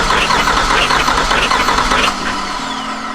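A C6 Z06 Corvette engine cranks over during a compression test, a dense rhythmic churning of the starter and engine that drops to a lower, quieter hum near the end, loud and close.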